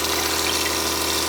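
Water gushes in a steady, close hiss from the kitchenette sink faucet of an Airstream Interstate motorhome as the lines are drained for winterizing.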